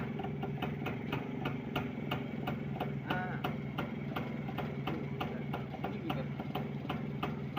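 A 1983 Rajdoot motorcycle engine idles steadily with a regular ticking, knocking pulse, a constant mechanical chug that stays level throughout.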